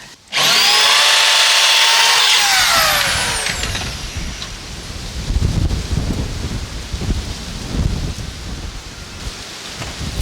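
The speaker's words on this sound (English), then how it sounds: "Just got a cutter on the end of a drill." Drill fitted with a cutter bit enlarging a hole, a loud high whine that starts abruptly, holds for about two seconds, then drops away into rough scraping and rumbling handling noise.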